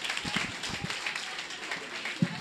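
Scattered applause from the audience at a student eloquence contest run by a students' association, a faint, thin patter of a few hands clapping unevenly in a large room.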